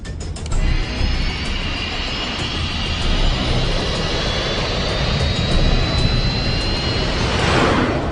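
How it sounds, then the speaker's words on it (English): A jet aircraft's engines roar during takeoff in a crime thriller scene: a loud, steady broadband rush with a high whine running through it, swelling slightly toward the end, with no voices. "Ready for takeoff."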